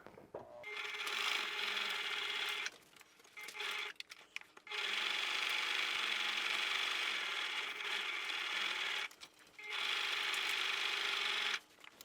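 A sewing machine stitches layers of fabric for reusable pads, running in long steady bursts of rapid mechanical whirring, stopping briefly between runs, close and fairly loud.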